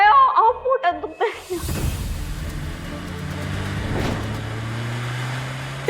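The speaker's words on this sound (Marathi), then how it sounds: "किती जोरात गाडी चालवतोयस?" A car being driven fast in a TV drama scene: after a brief stretch of voices and light laughter, a steady engine drone takes over and continues at moderate loudness.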